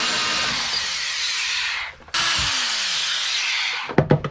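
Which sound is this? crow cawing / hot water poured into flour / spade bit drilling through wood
spade bit drilling through wood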